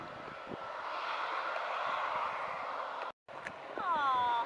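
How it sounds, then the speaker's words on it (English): A small flight-school plane near Doncaster Robin Hood Airport drones steadily with a broad engine roar, fairly close outdoors, briefly cut off then returning while a voice talks over it. "Once again trying to sneak up on me is once again another plane from the Doncaster flight school"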